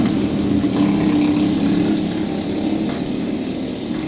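Racing karts on a backyard kart track in Oswego, engines buzzing steadily as a group passes, a continuous loud drone with a wavering pitch and no voices.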